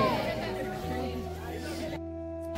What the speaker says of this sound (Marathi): जाम गर्दी आहे, गर्दी पहा, खूपच गर्दी आहे